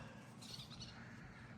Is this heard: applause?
no